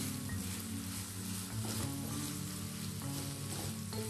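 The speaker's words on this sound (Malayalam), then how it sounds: "സവാളയൊക്കെ ചെറുതായിട്ട് വഴന്ന് വരുന്നുണ്ട്" Sliced onions sautéing with salt in a pan for onion rice, a soft, even sizzle with faint stirring, quiet and close, no one speaking.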